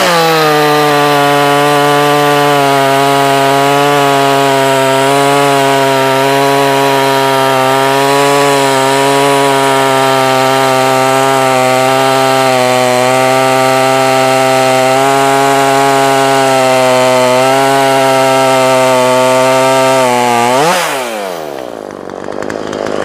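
A stock Makita 5600 chainsaw runs loud and close for about twenty seconds, holding a steady high buzzing whine with slight wavering, then dips and winds down at the end.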